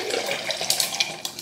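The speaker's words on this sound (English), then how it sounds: "I didn't finish my margarita from earlier, so I'm gonna pour that in there" Leftover margarita is poured into a glass with ice, a close, continuous splashing pour with a few brighter glugs toward the end, no voices.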